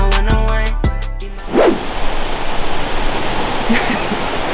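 A waterfall near Souillac, Mauritius roars as a loud, constant broadband rush close by, taking over after a short stretch of music fades out.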